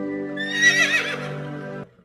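A horse gives one loud, drawn-out whinny as a prince rides off in an animated Hindi folk tale, rising and wavering before cutting off cleanly, with no speech over it.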